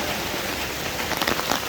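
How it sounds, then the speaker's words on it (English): Rain falling onto a surface near a building with a drainage swale, a dense, steady hiss of drops with a few sharper close patters. "At some point, I would like to capture this rain"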